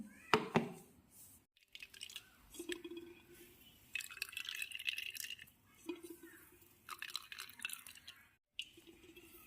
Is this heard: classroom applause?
no